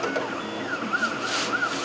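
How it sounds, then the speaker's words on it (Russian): A 3D printer at work, with steady mechanical whirring and a fan hum, plus repeated short rising and falling stepper-motor whines as the head moves, close and continuous. "Ну и принтер печатает."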